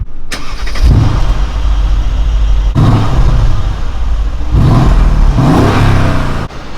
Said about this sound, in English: V8 engine sounds, it is superb.